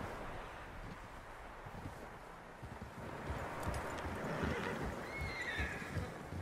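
A horse whinnies and its hooves clip-clop in Red Dead Redemption 2, over a steady outdoor wind hiss, with the neigh rising clearly toward the end.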